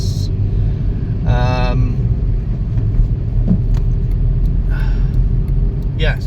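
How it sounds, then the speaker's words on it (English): A car creeps through a motorway traffic jam while passing a bus, with a steady low road and engine rumble throughout and a brief voice cutting in near the start. "bit of a traffic jam on the motorway, trying to go past the bus"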